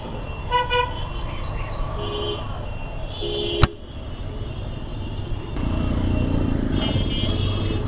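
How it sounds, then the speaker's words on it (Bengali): A Suzuki Gixxer SF FI ABS 2024 motorcycle is set off for a test ride: short horn toots and a sharp click, then the engine settles into a steady, close running drone. "সো আমি এখন বাইকটাকে টেস্ট ড্রাইভ দিব।"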